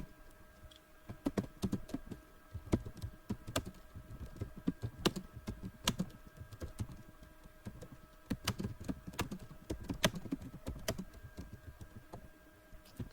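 Steady, fairly quiet clacking of keys on a computer keyboard, irregular bursts of keystrokes with short pauses, close and alone with no voices.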